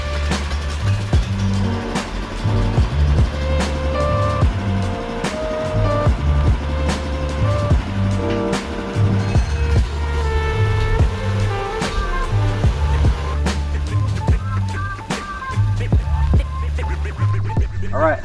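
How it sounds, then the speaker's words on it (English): A 420cc Predator engine powers an articulating 4x4 dump truck, rumbling steadily and loudly close by for the whole stretch, with rising revs and a few sharp clanks as it gets going and drives. "Let's fire this thing up and take it out for a test drive."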